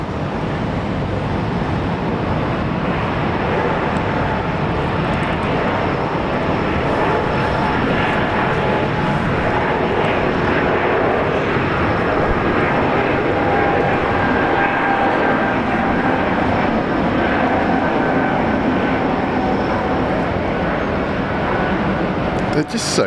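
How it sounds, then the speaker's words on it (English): Airliner taking off at Brisbane International Airport, a steady, loud broadband engine roar sustained for over twenty seconds, with people talking over it. "You can actually hear the takeoff."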